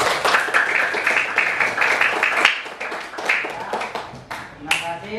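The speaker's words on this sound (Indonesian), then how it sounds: "Tepuk tangan untuk kita semua." Schoolchildren in a fourth-grade classroom clapping together, a dense, uneven burst of applause close by with voices mixed in, fading toward the end.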